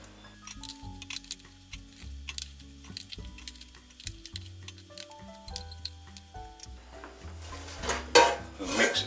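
Air-fried chips are tossed in a bowl, giving irregular rattling clinks and scraping knocks against the bowl, soft and close, building to a denser shaking rustle near the end.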